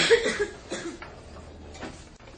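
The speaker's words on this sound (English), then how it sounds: "I notice this coughing doesn't start till I start talking." A few scattered coughs from a lecture audience, distant and fairly quiet, with faint background noise between them.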